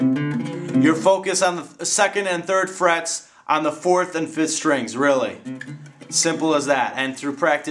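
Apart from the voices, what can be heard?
No everyday noises stand out.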